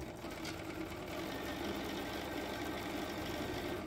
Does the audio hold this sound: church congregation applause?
no